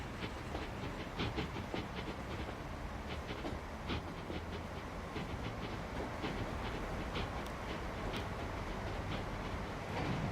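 Faint, continuous rumble of a train in the game Transport Fever 2 rolling along with rhythmic clicking of wheels on track and a soft hiss, no voices.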